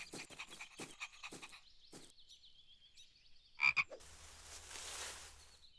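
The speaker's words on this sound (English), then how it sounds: "You'll scare the frog away." A frog croaks in a series of rhythmic, throaty pulses, fairly close, followed by a louder short call and then a soft rustling hiss.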